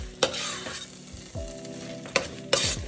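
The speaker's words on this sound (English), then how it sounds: "You're just supposed to mix it until it becomes a ball that does not separate" A spoon stirs and slaps thick nun's puffs dough in a pot until it forms a ball, giving sticky scrapes and a few sharp knocks against the pot, close and fairly quiet with no talking.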